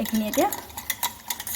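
Yogurt raita with chopped green and ripe chillies and finely cut coriander being stirred in a bowl, a spoon scraping and clinking against the side in brief, quick strokes while a voice speaks over it.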